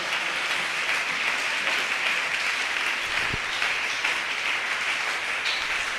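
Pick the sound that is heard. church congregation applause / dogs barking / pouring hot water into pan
church congregation applause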